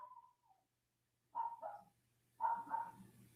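A dog gives two pairs of short, muffled barks at a distance, separated by a pause, over a faint steady hum.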